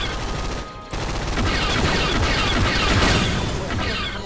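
Rapid blaster fire from a Star Wars Clone Wars roleplay video game crackles in dense, continuous volleys, loud and close, with voices talking over the shooting throughout.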